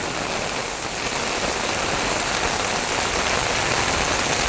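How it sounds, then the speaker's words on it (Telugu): Heavy rain pours down steadily, a dense, loud hiss of drops drumming on surfaces with no break. "వర్షం చూడండి వెనకాల ఏ విధంగా వస్తుందో"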